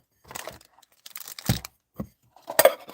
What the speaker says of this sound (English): 3 balls unwrapped.